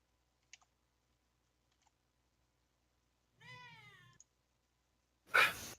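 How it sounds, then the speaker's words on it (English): A kitten meows once in a short rising-and-falling call, close and fairly clear, amid near silence with a few faint clicks before it and a loud burst of noise just after. "Can't tell if cat or lamb. Cat."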